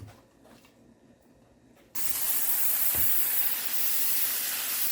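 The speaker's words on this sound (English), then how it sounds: "First thing I'm going to spray, though, is the piece of laminate." After a quiet start, a loud continuous hiss of aerosol spray adhesive onto a piece of laminate begins abruptly and holds steady to the end.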